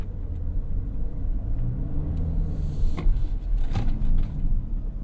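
Toyota Sienna Platinum hybrid minivan, about 4,700 pounds, braking hard in a brake test: steady low road rumble and cabin drone, with brief thumps and creaks near the end as the weight pitches forward.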